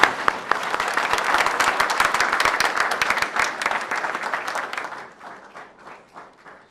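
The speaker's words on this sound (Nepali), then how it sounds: "दाजुलाई हामी ताली बजाएर स्वागत गरौँ।" An audience breaks into loud, sustained applause to welcome Pastor Chandra Prasad Sharma. The dense clapping holds steady, then thins and fades over the final seconds.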